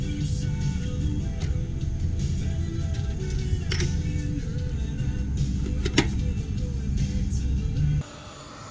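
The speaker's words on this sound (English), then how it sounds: "what you're hearing is you're hearing the CyberQ" A CyberQ BBQ temperature controller's blower fan runs with a steady, close whooshing hum on a smoker. The fan keeps an even drone for several seconds and then drops abruptly to a quieter level near the end.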